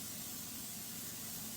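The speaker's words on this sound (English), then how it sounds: "I'm gonna spray my little pan" Cooking spray hisses into a small loaf pan for meatloaf in one continuous, even burst that lasts the whole moment, quiet and close with no talking.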